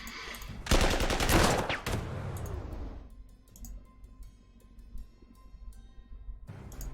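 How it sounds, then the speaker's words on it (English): A bombing strike in the wartime strategy game Panzer Corps 2: a loud crackling barrage of blasts swells for about two seconds, then fades into a rumbling tail with scattered ticks, and a fresh burst starts at the end. "Let the bombing commence."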